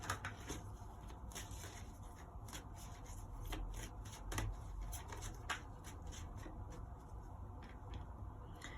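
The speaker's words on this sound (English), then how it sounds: "let's shuffle these cards" A deck of tarot cards is shuffled by hand up close, with quiet riffling and soft slaps in quick, uneven bursts.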